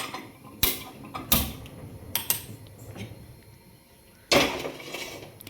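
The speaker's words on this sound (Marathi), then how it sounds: "आता आपण गॅसवर इथे कढई तापत ठेवू" Metallic clanks and scrapes of a heavy, thick wok being set down and shifted on a gas stove, a few sharp knocks spaced apart with quiet between.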